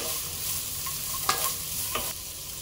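Cashews stirred and fried in a pan for a dhaba-style chicken curry, with a steady soft sizzle and occasional scraping clinks of the spoon, close and alone.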